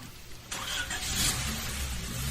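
A car engine cranks and catches with an abrupt start, then holds a rising, steady mid-range hum as the car pulls away, moderately close with no talking.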